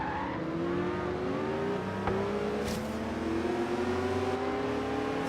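A big-engined car in the racing game Forza Horizon 3 accelerates hard, its engine note climbing through rising gear pulls with brief shift breaks, loud and continuous with no talking.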